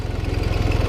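Fence mower on a Ford 1910 tractor cutting tall grass, a steady, close diesel drone with a rapid rhythmic throb from the rotary blade, running alone without voices.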